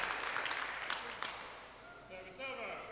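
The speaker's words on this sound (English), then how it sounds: "a warm and a knowledgeable round of applause from everybody in the hall" Applause from the crowd in a sports hall at a badminton men's singles final, the 2013 Irish Open, a dense clatter of clapping for about two seconds that fades as a commentator's voice comes in.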